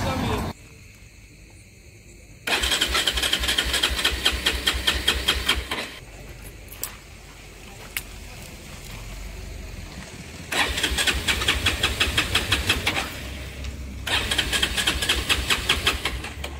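A car engine cranking at night and failing to catch, with bursts of loud whirring starter noise broken by quieter pauses, close by, with someone talking in between.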